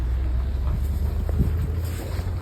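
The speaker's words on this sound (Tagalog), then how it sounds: "Lakas ng hangin eh." Strong wind outdoors in Japan buffets steadily with a deep, constant rumble and rushing noise, no voices.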